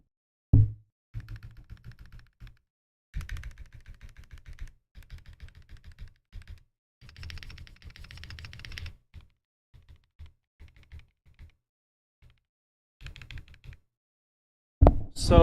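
A mechanical keyboard fitted with stabilizers clacks in bursts of quick, close keystrokes, separated by short pauses and ending in a couple of louder knocks.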